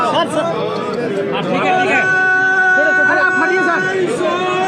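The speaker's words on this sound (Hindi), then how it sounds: "बहुत रश है, बहुत भीड़ है।" Dense crowd chatter at Nitish Kumar's inauguration in Rajgir, many overlapping voices close by forming a loud, steady babble with nearer individual speakers standing out.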